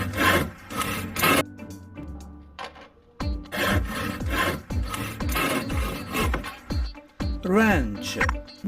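A plastic toy handsaw from a children's tool playset rasps back and forth in a string of quick, close scraping strokes, pausing briefly before resuming in an uneven rhythm.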